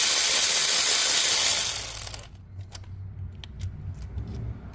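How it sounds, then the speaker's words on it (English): Loosening the 12mm belt tensioner nut on a 2013 Hyundai Elantra with a ratchet, the broadband sound cutting off after about two seconds and followed by a few sharp clicks and taps in a quiet garage. "Next, we'll take off this 12mm nut, we'll loosen it."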